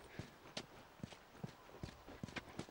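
Horse hooves clip-clopping at a steady walking pace in the video game The Last of Us, about a dozen evenly spaced, fairly faint thuds with a quiet background.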